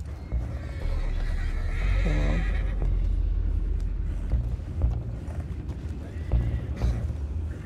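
A horse whinnies loudly once in Red Dead Redemption 2, with hooves clip-clopping and a low rumbling of movement continuing throughout.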